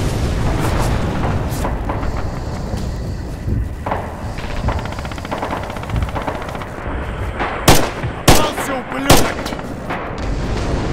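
Heavy artillery fire and gunfire in a World War II video game battle at the Red October factory, with continuous rattling shots and several loud, close booms near the end.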